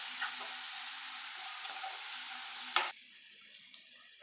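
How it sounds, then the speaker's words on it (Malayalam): Tapioca sizzling and frying in hot coconut oil, a steady loud hiss with a sharp clatter near the end as pieces drop in, then a quieter bubbling. "വെളിച്ചെണ്ണയിൽ നല്ലപോലെ മൂക്കണം"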